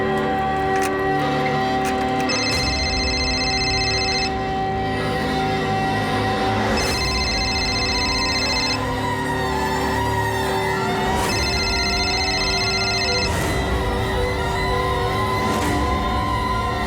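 A telephone rings in repeated bursts, roughly every four to five seconds, over a steady background of music, with no one answering.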